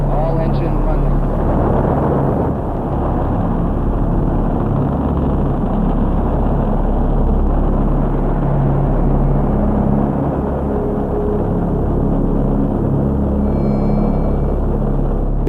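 Saturn V rocket engines roar at ignition and liftoff, a loud, dense, continuous low rumble that stays steady and overwhelming throughout, with no gaps or speech audible over it.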